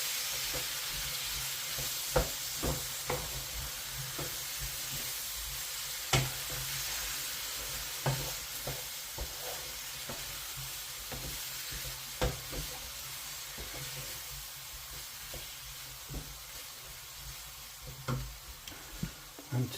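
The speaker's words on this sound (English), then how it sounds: "Give it a stir." Chopped tomatoes stirred into a sizzling beef curry, with a steady fry hiss and scattered spoon scrapes and knocks against the pot throughout.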